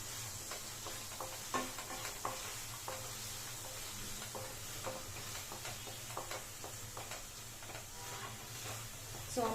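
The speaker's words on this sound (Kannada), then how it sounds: "ಹಾಕ್ಕೊಂಡು 1-2 ನಿಮಿಷ ಚೆನ್ನಾಗಿ ಫ್ರೈ ಮಾಡ್ಕೊಳ್ಳಿ" Turmeric and garam masala frying with peas and tomato for an aloo batani sagu, a steady low sizzle with scattered spoon scrapes and taps against the pan, close and moderately quiet throughout.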